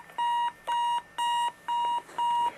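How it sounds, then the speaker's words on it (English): A Sony Dream Machine ICF-C25W clock radio alarm sounds five evenly spaced electronic beeps through its small speaker, each about a third of a second long, steady and moderately quiet with no other sounds. "that's all the alarm you get out of it"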